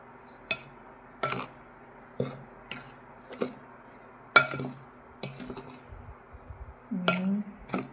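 A spoon clinks against a bowl while dry cookie ingredients are mixed, with irregular light taps and scrapes at roughly one-second intervals, quiet and close.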